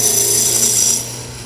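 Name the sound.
roughing gouge cutting wood on a lathe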